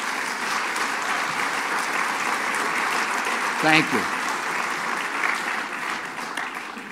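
Loud, continuous applause from a crowd at a governor's bill-signing event on heroin and opioid legislation, with a brief spoken thanks breaking in midway while the clapping carries on.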